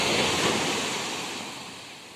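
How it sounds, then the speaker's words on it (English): Big ocean waves breaking on the white-sand beach at Uluwatu, Bali, at low tide, a loud, steady roar of surf close by that slowly eases, with some wind and no voices. "Huge waves, white sand,"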